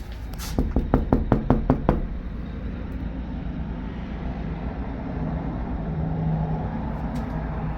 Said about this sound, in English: Let's just knock and see if anybody answers at least